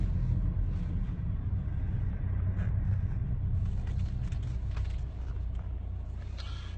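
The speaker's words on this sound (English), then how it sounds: "as I'm driving down the road" Inside a car driving down the road, a steady low road rumble and engine drone fill the cabin, constant and moderately loud, with no voices.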